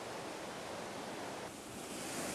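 Broadband rushing of river water splashing over rocks in small waterfalls, a steady close wash of noise with no pauses, heard alone.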